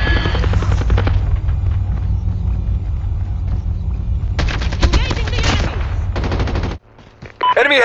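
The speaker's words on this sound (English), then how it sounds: "Enemy helicopter approaching." An enemy helicopter approaches in a shooter video game, its rotor thrum running under bursts of rapid machine-gun fire before a brief drop to near quiet.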